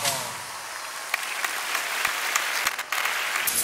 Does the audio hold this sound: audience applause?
yes